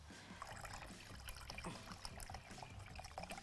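Water poured into tahini sauce while the sauce is being made, a soft close trickle and liquid splashing, faint and continuous, with no talk.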